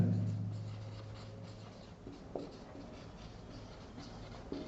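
Pen or marker scratching out a short definition on a board or page in a quiet room, faint intermittent strokes with soft taps.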